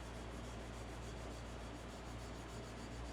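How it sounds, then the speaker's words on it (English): A turned wooden captive-ring goblet is lightly sanded with 600 grit sandpaper in one continuous, close, steady rubbing hiss. "We'll go ahead and sand it down with some 600, just kind of graze over it one time."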